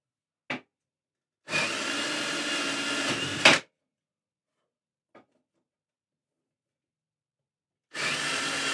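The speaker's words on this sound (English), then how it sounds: "I'll just drill through this little box here." Power drill boring through a small box in a custom guitar builder's workshop, heard in two loud, steady bursts of about two seconds each separated by quiet, with a tiny click between and another burst starting at the end.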